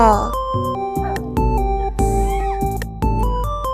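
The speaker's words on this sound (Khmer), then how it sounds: "បាទអ្នកគ្រូគឺសត្វឆ្មា" A cat meows several times over a bright plinking melody, with voices mixed in.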